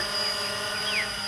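A Walkera QR X350 Pro quadcopter drone hovers in loiter mode, giving a steady high-pitched motor whine with layered tonal hum and a brief pitch glide, close and continuous.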